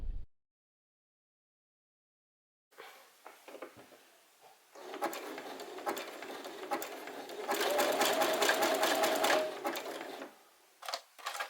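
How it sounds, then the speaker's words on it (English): A domestic sewing machine stitches fabric for a children's spring/summer dress, starting after a quiet pause with short runs, then a steady close whir of continuous stitching before stopping. "And this is how I set my machine. Then start sewing."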